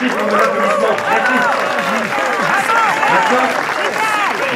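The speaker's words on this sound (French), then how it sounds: "Merci pour mon applaudissement." Studio audience at a French television music show applauds steadily, with overlapping voices and cheers rising through continuous, loud clapping for the whole stretch.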